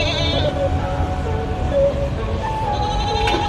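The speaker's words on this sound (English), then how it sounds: "Lord have mercy, that goat." Loud goat bleating in a long, wavering cry that rises and falls across several seconds, with a second call near the end over steady outdoor background noise.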